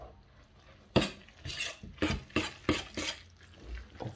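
Hot pasta stirred into a beaten egg and parmesan mixture for carbonara, giving a series of about six wet slapping, scraping strokes of a utensil in a bowl, close and fairly quiet, with no talking.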